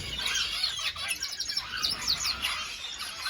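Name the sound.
canaries and tropical finches in an aviary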